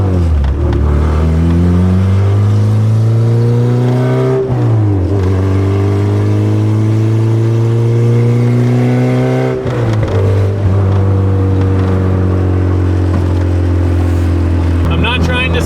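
Honda Civic EG hatchback with a built LS VTEC engine pulling hard through several gears, the engine note climbing repeatedly then dropping at each shift, loud and close from inside the car.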